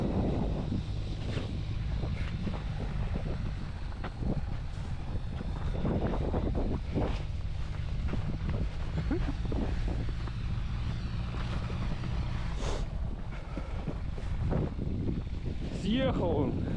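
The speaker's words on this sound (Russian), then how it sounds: "А снег идет и идет. Что, ветер, блин, в лицо прям бьет." Strong wind roars and buffets the microphone steadily during a snowstorm out on the ice on an ice-fishing trip, with people talking intermittently over it.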